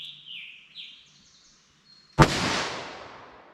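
A single .357 Magnum 110-grain round fired from a 2-inch snub-nose revolver cracks out sharp and loud, then rings off into a long decaying echo, with bird chirps faintly audible beforehand.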